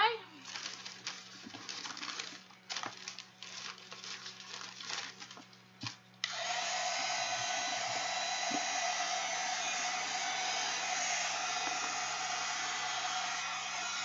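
Heat tool or dryer blowing steadily on a 9.5 by 13.25 inch mixed media designer bag with acrylic inks, a loud continuous hiss starting midway after quieter handling sounds and bird calls.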